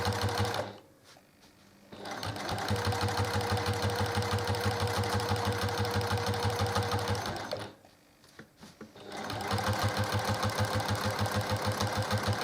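A sewing machine runs a line of stitching along a quilt binding. Its close, rapid mechanical whir goes in two long runs, with a short pause at the start and another in the middle.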